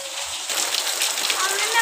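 Heavy rain mixed with hail pours down in Multan, a dense steady hiss and patter filling the air close by with no pauses.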